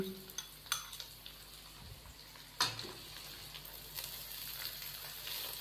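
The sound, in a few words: stir-frying carrot, capsicum and cabbage in a pan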